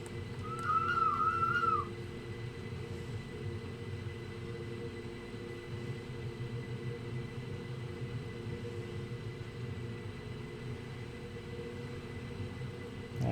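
A tourist train on the Bernina Express route in the game Train Sim World 5 gives a steady low rumble and hum, with a brief whistle-like squeal near the start.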